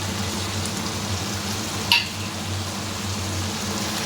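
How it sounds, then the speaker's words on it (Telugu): Chicken chukka masala roasts in oil in a pan with browned onions, giving a steady, even sizzle throughout, broken by one brief utensil clink partway through. "అందులో ఉన్న వాటర్ అన్ని ఎవాపరేట్ అయిపోయే వరకు మనం రోస్ట్ చేసుకోవాలి"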